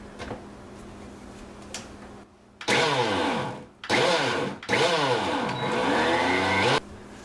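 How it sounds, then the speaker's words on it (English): Blender whirring through mint pesto in three loud bursts of about a second each, the motor pitch sweeping as the blades load and free up, separated by short pauses after quieter handling noises. "Then all you got to do is blend it all together and make it into the sort of consistency that you want."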